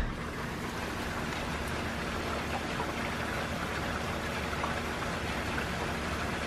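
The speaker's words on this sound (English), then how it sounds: "it just started raining out of nowhere" Sudden rain falls steadily outdoors, an even, continuous hiss of drops on surfaces, fairly loud and close, with no talking over it.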